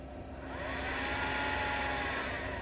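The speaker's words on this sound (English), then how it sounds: "So this right here is a squeegee vacuum" Handheld squeegee vacuum collecting condensation from the inside of a van's windows in winter, a steady electric motor whine that starts softly and then holds at an even level with no voices.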